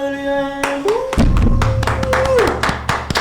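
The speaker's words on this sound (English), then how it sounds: "Guys, can we please have a round of applause?" A show audience gives a round of applause, heard as scattered, fairly close hand claps of uneven rhythm over a held tonal sound.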